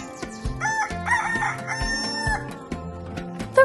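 A rooster crows from a wooden fence on a farm, one full cock-a-doodle-doo ringing out clearly over a backdrop of steady background music.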